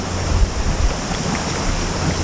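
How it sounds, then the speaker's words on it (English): Spray Falls pours over cliffs into Lake Superior at Pictured Rocks, a constant broad rushing wash heard from a kayak on the water, mixed with wind buffeting the microphone. "Really iconic waterfall along here."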